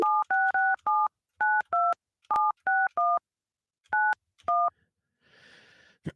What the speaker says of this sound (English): Let's call Johnny up here and see what he's up to.